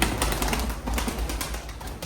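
White pigeons held in a loft give soft cooing and light wing flutters amid scattered rustling, fairly close and quiet, with no voices.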